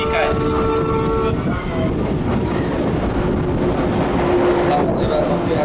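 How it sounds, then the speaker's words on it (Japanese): A 681-series Hakutaka limited express pulls into platform 4 at Toyama Station, a loud steady rumble of wheels and brakes with a brief horn, while a platform announcement plays over the noise. "まもなく4番乗り場列車が入ります。"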